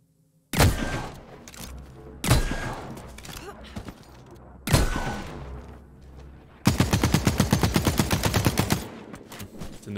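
Gunfire in a first-person shooter video game: three heavy single shots spaced about two seconds apart, followed by a loud rapid automatic burst lasting around two seconds, close and dominant.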